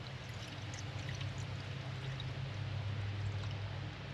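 Coolant pours steadily into the engine of a Nissan Xterra with a blown head gasket, a soft continuous trickling stream, close and quiet, with no talking.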